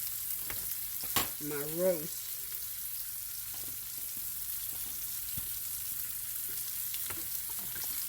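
Roast beef sizzles steadily in a frying pan, a continuous close crackle with a brief voice speaking over it near the start.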